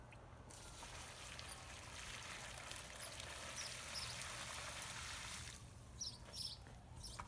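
A full 5-gallon pail of water poured onto a wood chip garden bed: a steady, fairly faint rushing pour lasting several seconds, with a few small splashes near the end and no talk.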